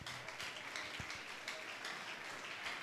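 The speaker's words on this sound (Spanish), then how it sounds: "Dale un aplauso fuerte al rey." Congregation applauding during an evangelical church service, a steady wash of clapping from a crowd, moderately faint and unbroken.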